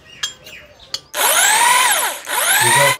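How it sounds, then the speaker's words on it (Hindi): A new electric drill is tried out at home near tiled walls, with a couple of faint knocks and then two loud, high-pitched whirring bursts as the motor spins up, winds down briefly and revs again. "आज जरा इस नई ड्रिल का एक ट्रायल कर देते हैं।"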